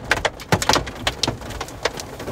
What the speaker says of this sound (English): I am in a hailstorm, and Hoku and I are in the truck